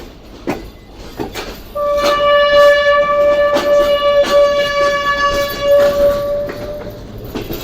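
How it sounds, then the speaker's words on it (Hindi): Coaches of the Green Line Express being shunted in a station: sharp metallic clanks of couplings repeat at irregular intervals, and a loud, sustained multi-tone train horn sounds for several seconds in the middle, with no talk. "5 अप गीलैंड एक्सप्रेस के कोचेस की शंडिंग हो रही है"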